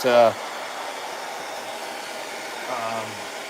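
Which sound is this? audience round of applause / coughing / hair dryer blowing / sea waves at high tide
hair dryer blowing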